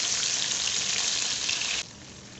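Garlic, ginger and green chillies sizzle in hot oil in a pan, a loud steady crackling hiss that drops off sharply near the end, close up with no talking.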